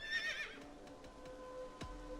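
A horse in Assassin's Creed Valhalla gives a high, wavering neigh close by at the start, followed by a few soft hoof clops and faint ambient tones.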